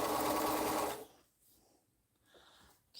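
A sewing machine stitches a quilt block in a short, steady whirring run of about one second, loud and close, then stops, leaving quiet room sound and faint handling.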